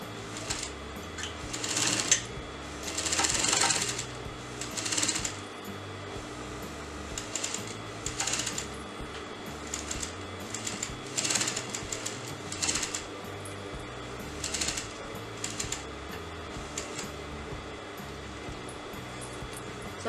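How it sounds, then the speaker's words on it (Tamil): A sewing machine stitches a half-collar neckline on a garment, running in repeated short bursts with pauses between, fairly quiet and steady, with no talk over it. "இப்போ நான் தைக்க போகிறேன்"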